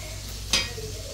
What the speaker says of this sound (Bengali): এটার সাথে আমি একটু রসুনও ভাজা নিলাম